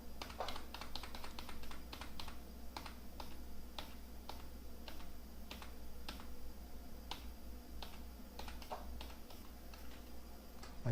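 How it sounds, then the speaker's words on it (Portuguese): Keys pressed on a computer keyboard during vector drawing work, a steady series of sharp, close individual clicks spaced irregularly over a low constant hum, with no talking. "Estou apertando o Ctrl Z no teclado para ele voltar."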